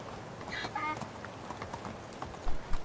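A horse's hooves clip-clop in a steady trotting rhythm in the medieval village game Medieval Dynasty. A faint bird call and game ambience sit under the hoofbeats, and a voice speaks briefly.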